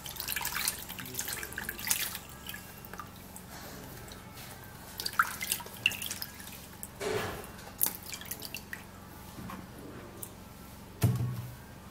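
A pepper being washed under a running kitchen tap, with a faint steady trickle of water, scattered drips and splashes, and a soft knock near the end, no talking.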